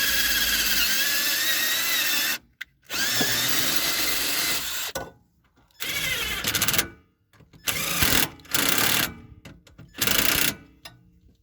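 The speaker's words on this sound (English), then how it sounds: "Now these holes are not tapped, so you will have to tap them to bolt it in." Power tool whirring in repeated bursts while tapping bolt holes in a car chassis for a wiring harness bracket on an SR20-swapped Spec V, loud and close with short pauses between runs.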